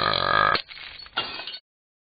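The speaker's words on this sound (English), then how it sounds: "Oh no, all this burping broke the picture." One long, loud, deep burp from a person practising for a burping contest, followed by shorter rough, gravelly bursts before the sound cuts to silence.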